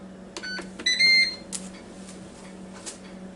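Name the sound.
Ninja Foodi Deluxe pressure cooker beeping as power is turned on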